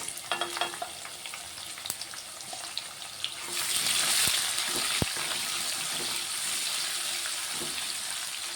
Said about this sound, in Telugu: ఇప్పుడు ఉల్లిగడ్డ వేసుకుంటాను